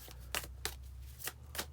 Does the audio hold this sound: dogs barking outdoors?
no